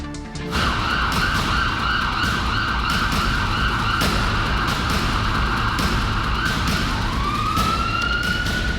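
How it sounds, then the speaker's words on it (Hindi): Police convoy sirens escorting an ambulance wail loud and close and hold steady throughout, with a second siren tone rising near the end over road traffic noise. "मुख्तार एम्बुलेंस में बैठा है और एम्बुलेंस के चारों तरफ पुलिस का मुस्तैद घेरा है।"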